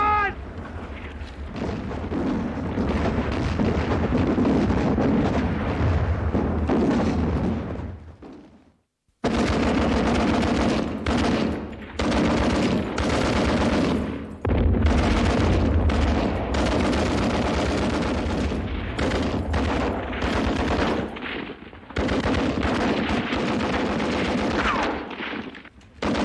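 A WW1 battlefield scene roars with a sustained artillery barrage and rapid gunfire, dense overlapping blasts and rattling shots filling the air, loud and continuous apart from a brief drop to silence partway through.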